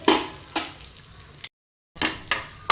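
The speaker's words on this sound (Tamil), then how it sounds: "முந்திரியை போட்டு அது வறுபடட்டும்" Cashew nuts frying in a hot pan for a sweet dish, giving a crackling sizzle with sharp stirring clacks, briefly cut to silence before resuming.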